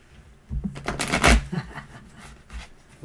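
A brief burst of tarot card shuffling, a quick riffle of papery flutter and clicks lasting about a second, close by, followed by quieter handling sounds.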